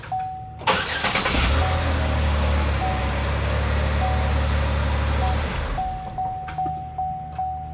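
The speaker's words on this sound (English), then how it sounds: "now the vehicle should start" A car engine cranks and catches after a BCM replacement, roaring steadily up close for several seconds before settling, with a repeated electronic chime beeping before and after the engine runs.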